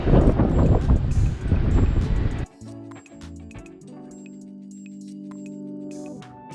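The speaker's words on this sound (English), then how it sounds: "It's windy!" Strong wind roars and buffets the microphone on a downtown Regina street for a couple of seconds, then cuts out abruptly, leaving quieter steady tones and a low hum.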